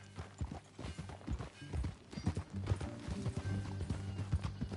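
Horse hooves clip-clop at a steady trotting rhythm while riding in Red Dead Redemption, with continuous, moderately loud footfalls over soft ground and a low background hum.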